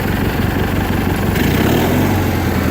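A Cub Cadet 1811 lawn tractor engine runs steadily on a new carburetor, its loud, close, low rumbling drone holding even for a few seconds without any voices.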